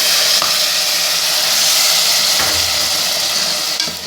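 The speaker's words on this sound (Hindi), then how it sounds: "इसमें इतना पानी डालेंगे कि आलू गल जाए। मैंने गर्म पानी किया हुआ है," Hot water poured into a pan of frying potatoes and minced meat for aloo keema, giving a loud, steady sizzle and hiss close up that holds through the whole stretch with no talk.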